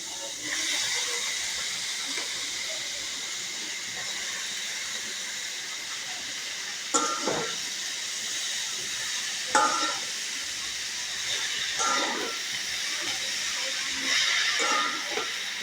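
Cabbage frying in a hot pan with a fried fish head, a steady loud sizzle and hiss throughout, with a few clattering stirs and knocks of a utensil against the pan.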